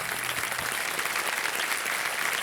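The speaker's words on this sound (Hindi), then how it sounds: "और तालियां बज जाएं इनके लिए।" A studio audience on a KBC quiz show breaks into applause for a contestant, a dense, steady wash of clapping filling the whole moment.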